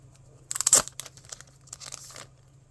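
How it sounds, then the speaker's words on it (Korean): Plastic-wrapped packages being torn open: a burst of crinkling, ripping plastic around the middle, then softer rustling and crackling that trails off, fairly close with no voices. "두 개만 뜯어볼까요?"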